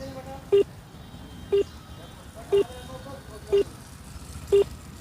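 A phone call to an electricity office that will not connect, heard as five short evenly spaced beeps about a second apart over a steady low background hum.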